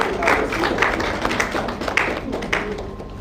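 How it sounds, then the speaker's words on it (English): Audience at a professional assembly giving a round of applause, a brisk, moderately loud patter of clapping that holds steady with some voices mixed in. "let's give a round of applause"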